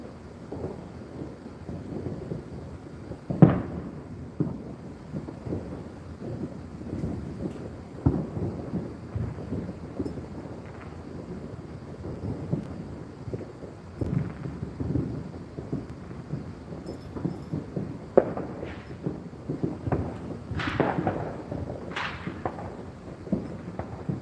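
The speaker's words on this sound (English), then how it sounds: "The camera doesn't do justice for these fireworks." Fireworks burst over Las Vegas at night, distant booms and sharp cracks scattered irregularly, a few louder bangs standing out over a low rumbling background.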